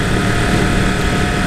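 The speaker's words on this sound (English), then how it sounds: "the sound is everything I thought of a Yamaha R1. You've got to love that cross-plane engine." A 2017 Yamaha R1 (YZF-R1) motorcycle with a cross-plane engine gives a loud, steady, dense engine roar, likely mixed with wind rush, heard close with no break.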